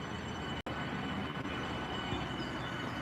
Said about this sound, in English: Look, there's a train coming, Alexander.